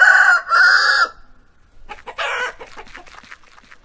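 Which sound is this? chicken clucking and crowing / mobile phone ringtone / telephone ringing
chicken clucking and crowing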